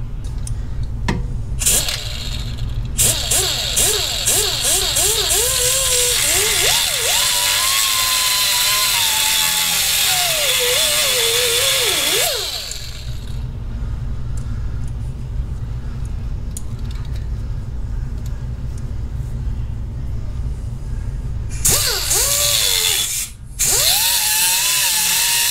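A power tool cuts through the thick stock exhaust pipe of a 2016 Harley Davidson. It runs as a loud, steady whine with pitch wavering under load, then stops, leaving a quieter stretch before short bursts resume near the end.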